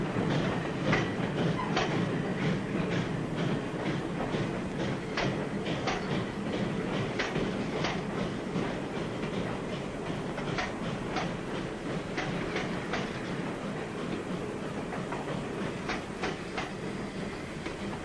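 A 1940s-era train rolls steadily along the rails, its wheels giving a continuous rhythmic clickety-clack with repeated sharp clicks over a constant rumble, moderately close, with no voices.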